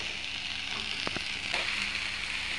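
Chopped chengmora greens hitting hot oil in a pan for an Assamese stir-fry, giving a steady, fairly loud sizzle with a couple of brief crackles and pops, no talking.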